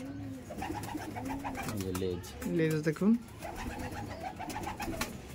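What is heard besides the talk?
green Madras pigeons cooing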